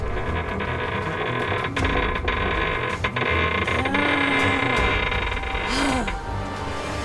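A radio drama effect of sealing a torn ship hull seam under pressure: metallic creaks, ratcheting clanks and groaning strain sounds layered over a dense mechanical rumble, with rising squeals near the end.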